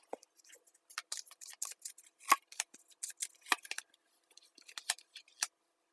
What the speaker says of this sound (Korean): 여러분을 위한 좋은 카드를 뽑아보겠습니다